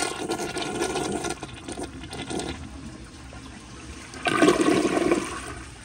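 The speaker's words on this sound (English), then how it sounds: "here is another flush" A 2001 American Standard Cadet toilet flushes close by: a rushing swirl of water that eases into a quieter drain, then surges loudly again near the end as the tank refills.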